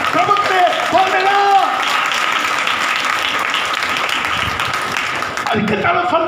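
A church congregation at a Hindi Bible study claps loudly for the Lord, a dense sustained roar of hands with voices calling out over it, the applause briefly dropping away near the end before resuming.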